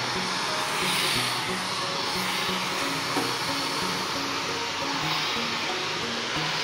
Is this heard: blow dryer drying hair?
yes